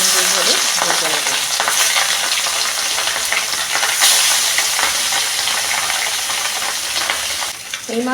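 Katla fish pieces fry in a pan with a loud, steady sizzling hiss and crackle, close up and continuous, occasional stirring bumps and no voices.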